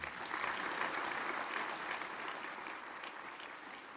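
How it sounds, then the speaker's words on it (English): An audience at the AUSA Global Force military conference gives a sponsor a sustained round of applause. The dense clapping stays loud and even for several seconds before easing slightly at the end. "Please help me give GoVini a big round of applause."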